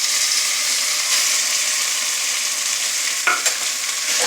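Sago and banana stem frying with curry leaves, a steady bright hiss of oil sizzling close by, broken near the end by a short clatter as the pan is stirred, no talking.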